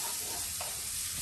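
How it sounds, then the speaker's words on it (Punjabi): Tadka sizzles loudly in hot oil for a gobi dish, a dense continuous crackling hiss heard close, with no voices. "ਲੱਗ ਗਿਆ ਤੜਕਾ।"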